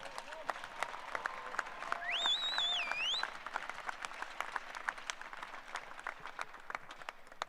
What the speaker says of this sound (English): So we got to give that guy a round of applause